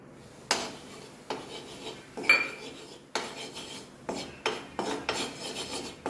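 Wheat flour being stirred into ghee in a pan, left over from frying cashews golden, heard as repeated rasping scrapes of a metal spoon against the pan in uneven strokes, close and alone.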